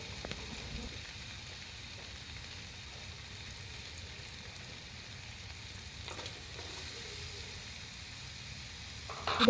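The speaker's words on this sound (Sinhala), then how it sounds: "කපාගත්ත සුදු ලූණු ටිකක් දාලා සුදු ලූණු ටිකත් චිකන් එකයි තක්කාලි ටිකයි එක්ක ටිකක් ෆ්‍රයි වෙන්න" Garlic, chicken and tomatoes fry in a pan for pasta with a soft, even sizzle and a few faint stirring touches, quiet and steady throughout, with no voices.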